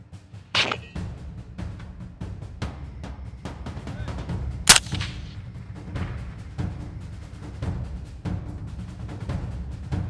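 Hunters in Texas fire at wild boars at night, a volley of sharp gunshots, two louder close cracks standing out among many fainter rapid shots over a rumbling background.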